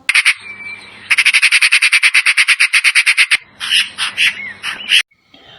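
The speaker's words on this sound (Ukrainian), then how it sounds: "А тепер послухайте, як говорить сорока." A magpie chatters in a fast run of harsh, rattling calls, then a looser burst of squawks, loud and close with no voices.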